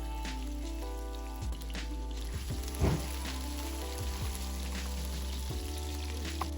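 Dried red chilies, ginger, garlic and curry leaves frying in a generous amount of hot oil, giving a continuous close sizzle with a few sharper pops and spatters.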